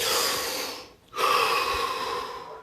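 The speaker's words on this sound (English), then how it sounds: "Take 3 deep breaths." Deep breaths drawn in and let out during a guided relaxation session: a long, airy breath, a brief pause, then another long, rushing breath, close to the microphone and fairly loud, with no speech.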